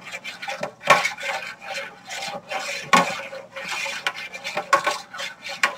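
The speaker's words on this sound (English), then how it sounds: "I just kind of get stirring in a circular motion and just start adding it." A utensil scrapes and clinks against a pot, stirring in circles while cooking chicken leg quarters, with steady rubbing scrapes and a few sharper knocks at close range.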